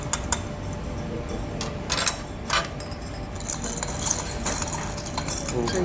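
A nitration reaction mixture of methyl benzoate being stirred continuously, heard as faint scraping and clinks of a stirrer against glass over a steady background hiss, with a few sharper knocks scattered through.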